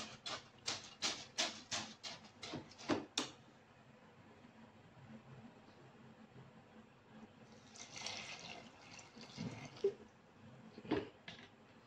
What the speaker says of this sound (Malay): Lagi tambah air tu sampai cukup.